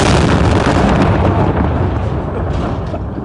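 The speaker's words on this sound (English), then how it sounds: "The Marines carry on as they started, laying down rockets to clear Pharmacy Road of IEDs." A massive rocket blast booms and rumbles over Pharmacy Road in Sangin, Afghanistan, as Marines clear IEDs; the loud, broadband roar fades slowly into a long rolling decay.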